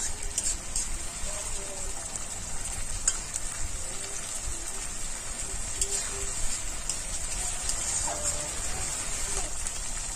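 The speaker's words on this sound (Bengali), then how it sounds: "আমি পেঁয়াজটাকে খুব ভালো করে ভেজে নেব" Onions sizzle steadily in a pan while frying for a rui fish rezala, a continuous bright hiss with faint tonal sounds in the background.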